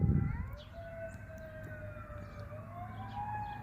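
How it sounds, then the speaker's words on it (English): A wailing siren rises and falls steadily at a distance for several seconds, with a low rumble underneath and a brief louder thump at the start. "And there are sirens going off."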